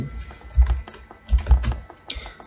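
Code being typed on a computer keyboard in a C programming session: irregular bursts of soft key taps arriving in small clusters, fairly close and fairly quiet, with no talking.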